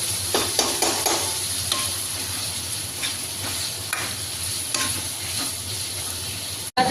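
Onions with a little salt sizzle in a pan, a steady close frying hiss broken by occasional stirring scrapes, with no talking.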